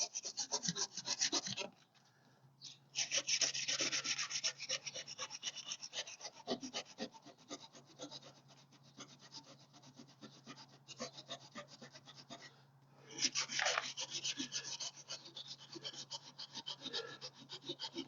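Wet sandpaper rubbed back and forth over a surface in long rasping strokes, close and fairly loud, pausing briefly twice before resuming, with a faint steady hum underneath.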